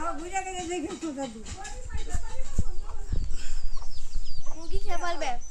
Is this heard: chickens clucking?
yes